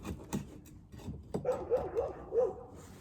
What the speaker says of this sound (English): And the dog is freaking out as usual.